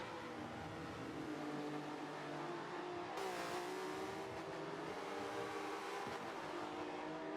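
Volvo touring race cars in a video game race at Yas Marina give a faint, continuous engine whine that rises in pitch as they accelerate, with a brief sharp shift partway through.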